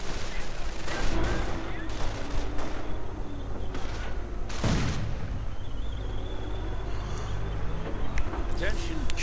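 Video game battle with rifle volleys and grenade blasts, dense bursts of gunfire and booming explosions, with a commentator talking throughout.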